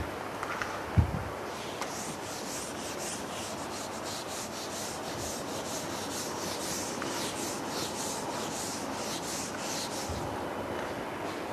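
Steady rubbing and scraping of a board during a lecture, a continuous dry swish that runs for several seconds with a brief thump near the start.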